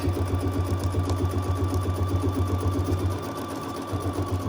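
An embroidery machine stitches a grid across hooped fabric, giving a steady close mechanical hum with a fast rhythmic needle chatter that briefly drops lower near the end, with no speech.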